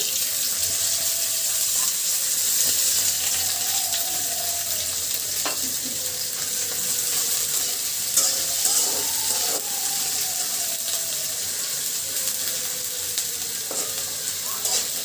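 Onions and green chilies fry in hot oil for a hilsa fish curry, a constant hissing sizzle close by with a few sharp clatters. A faint, wavering background tone drifts in now and then.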